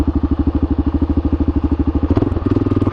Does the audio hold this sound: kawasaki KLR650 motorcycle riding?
yes